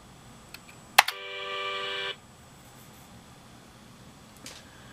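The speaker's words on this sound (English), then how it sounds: "44 comma 60 should play the Gigatron startup chime for 1 second." A Gigatron computer sounds its startup chime, a single steady electronic tone lasting about a second, preceded by a sharp click and followed by quiet background.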